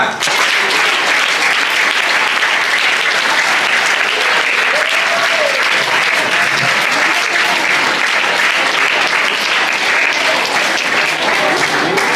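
Loud, sustained applause from a large audience, dense continuous clapping filling the whole stretch without letting up.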